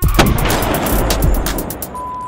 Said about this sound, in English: Car crash and cannon shot to make the collision.